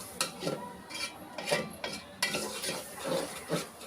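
Meat stir-fried in a pot with Radhuni biryani masala, with irregular spatula scrapes and clinks repeating close up over a soft, steady sizzle.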